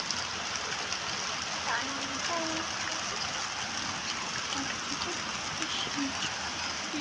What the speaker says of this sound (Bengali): জোরে বৃষ্টি পড়া শুরু করে দিয়েছে এবার বন্ধুরা